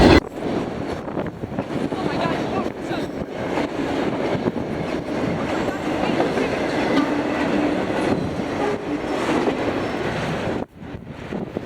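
Freight auto rack cars rumble and clatter past close by in a continuous stream, with wind buffeting the microphone, then the noise suddenly drops.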